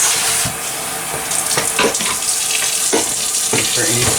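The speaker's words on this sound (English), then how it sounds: "I've got the kale chopped up. I'm just going to come in here, give it a little rinse." Tap water runs into a sink over chopped kale being rinsed, a steady close splash with brief bursts as the leaves are moved under the stream.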